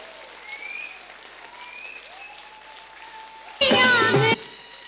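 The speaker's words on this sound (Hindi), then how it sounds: "एक बार जोरदार ताली, जोरदार ताली।" Audience at a celebration event in Malda, Bengal bursts into loud applause near the end, a short dense burst of clapping following a speaker's voice talking over a PA.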